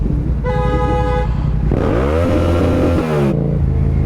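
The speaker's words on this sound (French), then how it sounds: "Bah il klaxonne, il fait pareil." A car horn blasts loudly and steadily for about a second in street traffic in Lille, followed by a revving engine sweeping up in pitch close by.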